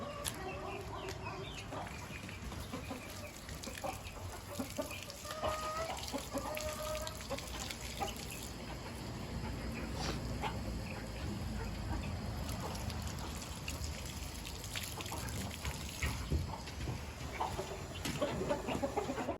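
Chickens cluck steadily on a farm among other livestock, a constant scatter of short calls through about twenty seconds of busy outdoor background.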